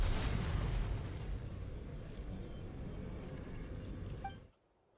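Chasca fires a shot at the stone in Genshin Impact, a loud burst at the start followed by a sustained rumbling roar that fades and cuts to near silence at the end.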